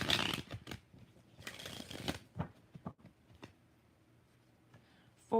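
Tarot cards being shuffled by hand in a few quick riffling bursts, close and crisp, with quieter shuffling and short pauses between them and no talk.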